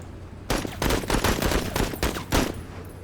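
Loud, close bursts of rifle fire from a video game rifle range rattle out in quick succession, several sharp volleys in a row with almost no pause between them and no talk.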